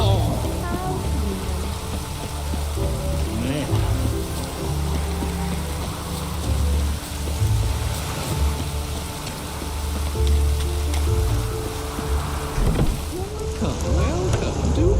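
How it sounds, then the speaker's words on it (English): Steady rainfall in The Witcher 3 video game patters as a continuous broadband hiss, with faint low rumbles and other game sounds mixed underneath. "Looks like rain."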